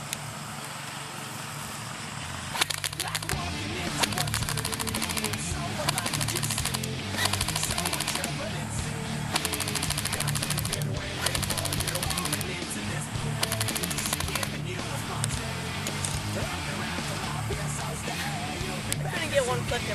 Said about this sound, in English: I'm going to be shooting at the target over there with 2 rounds.